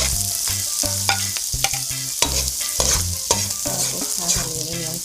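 Onion fries in olive oil while making scrambled eggs with cabbage, a loud continuous sizzle and crackle with scraping stirs and clanks over a low background hum.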